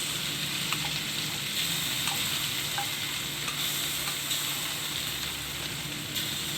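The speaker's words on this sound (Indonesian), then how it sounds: "Ini yang tadi bekas minyak tadi kita pakai untuk goreng ini." Reused oil sizzles and crackles steadily as chilies fry for tempeh sambal, with occasional stirring scrapes and no voices.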